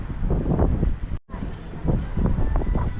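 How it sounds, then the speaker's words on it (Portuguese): Strong gusty wind buffets the microphone on the coast of Caraguatatuba, with loud, uneven low roaring bursts and a brief dropout in the middle. "Sinal do vento forte."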